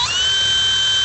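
A power drill fitted with a hole-saw mandrel bores a pilot hole in a truck tailgate, giving a loud, steady, high-pitched whine close to the microphone.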